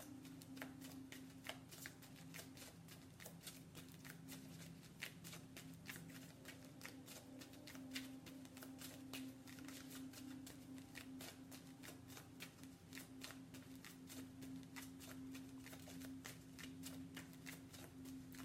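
An Angel Therapy oracle card deck is shuffled continuously, a rapid, steady patter of card riffles up close under a faint constant hum.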